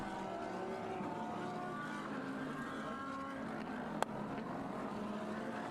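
GT3 race cars lap the Suzuka circuit during a GT Asia race, a steady blended engine roar with shifting pitch as several cars pass, plus one sharp click midway.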